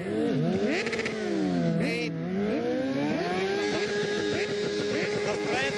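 Motorcycles rev repeatedly at a crowd gathering for the opening of the motorcycle season, engines rising and falling in overlapping sweeps, loud and close with general crowd noise behind.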